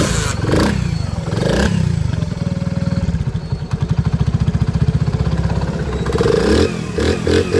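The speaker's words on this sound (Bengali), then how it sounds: "সাউন্ডটা দেখেন কত স্মুথ" Honda CD 80 motorcycle engine idling nearby, a smooth, even putter of rapid regular pulses that holds steady for several seconds, with brief handling clatter before and after.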